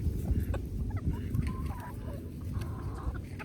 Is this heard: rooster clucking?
yes